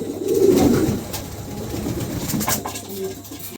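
Pigeons, including Lahori pigeons, coo in low, throaty murmurs, strongest at the start, with background noise throughout.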